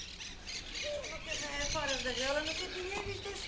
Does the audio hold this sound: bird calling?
yes